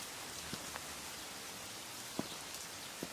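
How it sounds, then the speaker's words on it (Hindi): Heavy rain falls outdoors as a steady, soft hiss, with a few distinct drops pattering against a nearby surface. No one speaks. "बहुत बारिश हो रही है।"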